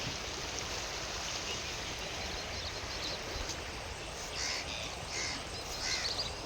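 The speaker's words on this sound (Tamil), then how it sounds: "இந்த பாருங்க தண்ணி அப்படியே வருது, சரன்னு சத்தம் கேட்டுக்கிட்டே வருது பாருங்கள்." The Sankarabarani River rushes in a steady, broadband roar close by, unbroken for several seconds with no voices.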